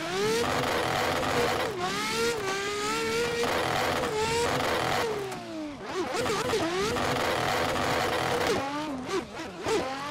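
A Nissan R33 pro drift car in a racing video game, its engine screaming near the redline and bouncing off the rev limiter, loud and continuous with repeated revving rises and falls.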